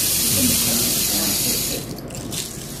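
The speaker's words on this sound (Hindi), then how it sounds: "नया चीज है, इससे पानी की आवाज आती है।" A novelty object made from seashell gives off a steady rushing, running-water sound, loud at first with faint voices underneath, then dropping quieter toward the end.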